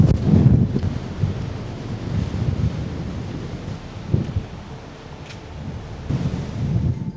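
Strong wind blows across the microphone during a walk in Barcelona before sunrise, low buffeting gusts that rise and fall for several seconds, loud and close with no voices.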